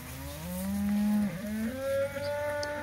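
A cow in a mob-grazed cocklebur field lets out a long, low moo that rises and bends in pitch, loud and fairly close, with a second drawn-out call following.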